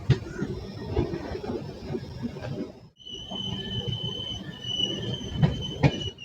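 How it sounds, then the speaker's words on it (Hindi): A passenger train pulling into Sikta railway station in Bihar on the Raxaul–Narkatiaganj line, with a steady rumble, a long high squeal of the wheels and a brief break partway through. "तो फिलहाल अपनी ट्रेन पहुंच रही है सिकटा रेलवे स्टेशन।"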